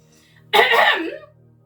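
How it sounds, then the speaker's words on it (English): A single short, harsh throat clearing, close and fairly loud, lasting under a second against near silence. "I clear my throat."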